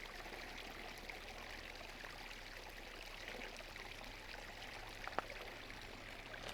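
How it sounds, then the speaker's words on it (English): A tiny spring creek beside Hyalite Reservoir Road trickles and burbles steadily at low level, a soft continuous flow of water with one brief click near the end. "just a tiny little spring creek there"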